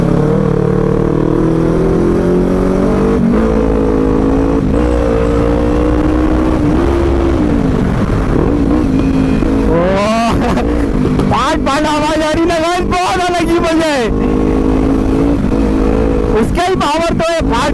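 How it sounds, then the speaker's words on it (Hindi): A superbike engine idles with a rough, steady rumble, then revs sharply several times in rising bursts, loud and close, with voices talking over it. "सुपर बाइक है भाई"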